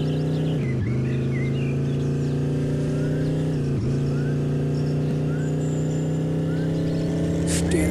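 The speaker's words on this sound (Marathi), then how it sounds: "सो आता आपण एक कार घेतो आहे आणि वापस जातो आहे त्या एरियामध्ये" A car in the video game Dude Theft Wars drives on with a steady engine drone whose pitch dips briefly twice, as if shifting or slowing, while faint chirps sit in the background.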